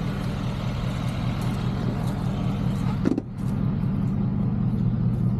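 A pickup truck hauling an overloaded trailer toward a sawmill, its engine giving a steady low rumble that dips briefly with a short thump before carrying on.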